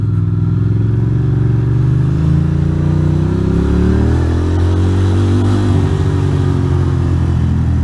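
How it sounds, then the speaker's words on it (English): Motorcycle engine held at steady high revs for a burnout on a rainy day, a loud continuous low drone with shifting pitch and some clatter, close and constant throughout with no talk. "I do want to do a little burnout."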